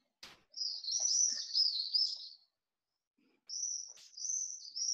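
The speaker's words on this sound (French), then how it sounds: "Il y a quelques oiseaux." Small birds chirp and tweet in clear, bright bursts, one long run of calls followed by a pause and then another run, close and distinct against an otherwise quiet room.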